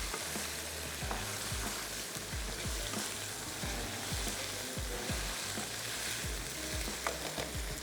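Onion, garlic and ginger with whole garam masala fry steadily in hot oil for dahi bhindi, a dense continuous sizzle broken by repeated clinks and scrapes of a spoon stirring the pan, close and with no voices.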